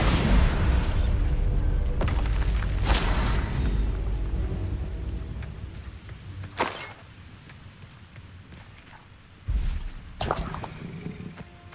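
Bombarda blasting spells bursting in Hogwarts Legacy, several booming detonations with whooshing sweeps, one near the start, one around the middle and another toward the end, over a low rumbling game backdrop.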